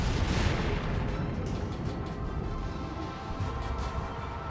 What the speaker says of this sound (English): I have to take this broadside shot on this GK.